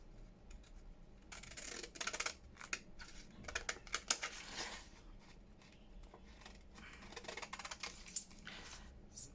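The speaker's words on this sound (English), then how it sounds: "let's cut round there." Scissors snip around a junk-journal collage sheet made from leftover packaging, a close run of crisp, irregular cuts and rustles of paper with brief pauses between, and no talking.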